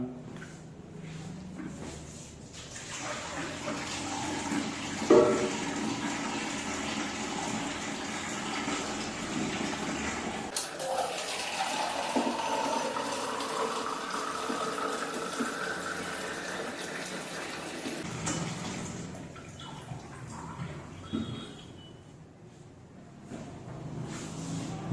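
Water pours from a milk dispensing machine into a beaker, filling it to the 2-litre mark: a steady gushing, splashing flow running close by with no talk, rising in pitch as the level climbs partway through.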